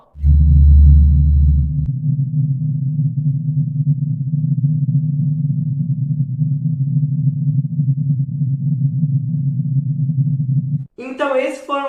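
NASA sonification of a black hole: a low, dense, steady droning hum holds for about ten seconds after a brief louder low tone at the start, followed by a short burst of voice at the end.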